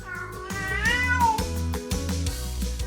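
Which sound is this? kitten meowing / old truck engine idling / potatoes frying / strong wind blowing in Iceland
kitten meowing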